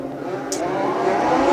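Legend race car engines rise in pitch and loudness as eleven cars accelerate together at a race start, a building roar with a brief squeal near the start.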